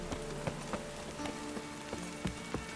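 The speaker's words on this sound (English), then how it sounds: "Rain was coming." Rain falls steadily in The Witcher 3, a soft, constant hiss under a low, muted hum, with faint dull taps scattered irregularly through it.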